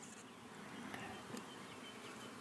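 Honeybee colony hums with a dense, continuous buzz of many bees, steady and faint, with no voices over it.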